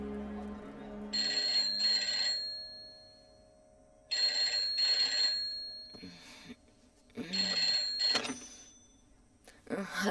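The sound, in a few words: telephone ringing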